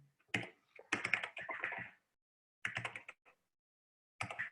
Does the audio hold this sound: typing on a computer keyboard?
yes